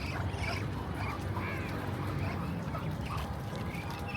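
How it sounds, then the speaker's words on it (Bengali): A male duck gives a series of short nasal quacks over a constant background hiss, fairly close by and moderately loud. "এটা বেটা হাঁস কনফার্ম।"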